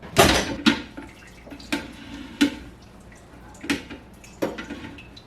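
Spinach draining in a kitchen strainer, with scattered close drips and soft watery splashes arriving in irregular bursts over a faint background.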